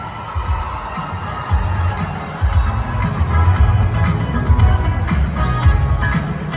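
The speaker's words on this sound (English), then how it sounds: "A round of applause once again." Audience at a Miss Negros Oriental pageant applauding and cheering, loud sustained crowd noise with shouts and whoops rising over the clapping throughout.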